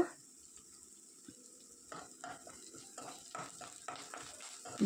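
Dry red chillies and curry leaves sautéing in oil in a pan, a faint steady sizzle with soft scattered stirring clinks, quiet and close, no talking.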